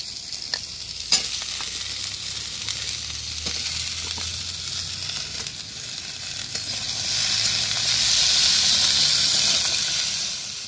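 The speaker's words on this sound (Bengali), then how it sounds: "থোর, আলু, কাঁঠাল বীজটা প্রায় ভাজা হয়ে এসছে।" Banana stem, potato and jackfruit seeds fry in a pan, a steady soft sizzle with occasional stirring clicks, the hiss swelling louder near the end.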